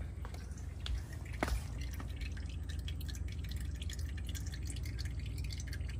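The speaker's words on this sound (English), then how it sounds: "Right now I have the oil draining." Engine oil draining from a 2020 Mercedes GLC300 with the M264 engine; a quiet, steady trickle with soft irregular drips over a low background hum.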